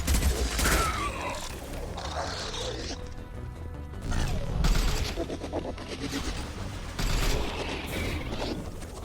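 Gunfire in the video game Mass Effect 2 during a combat scene, rapid loud bursts of shots with booms and clanking mechanical sounds throughout.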